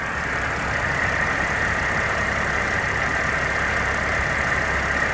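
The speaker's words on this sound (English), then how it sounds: "Let's listen to this engine one more time." A Mercedes Sprinter van engine idles steadily, a constant, dense mechanical hum and whir with no change in pitch or rhythm, recorded close and moderately loud.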